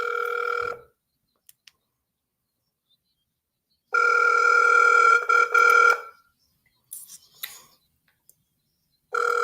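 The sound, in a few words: telephone ringing for a live call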